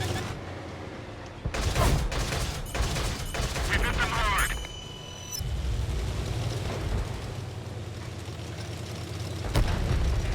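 Artillery shells land around a tank in a World of Tanks match, a loud fusillade of blasts and rumbling explosions early on, followed by lingering engine rumble and a final sharp impact near the end.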